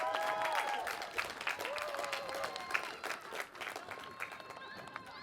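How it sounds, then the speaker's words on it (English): Graduation crowd at the College of Alameda 2025 commencement applauding families and friends, a dense sustained wash of clapping with scattered cheers and faint voices mixed in, steady throughout. "Let's clap it up for our families and friends today."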